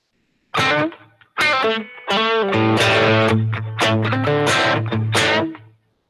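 A distorted electric guitar plays chords and short phrases through a spring reverb on a Line 6 HX Stomp, with a washy reverb tail ringing after each one.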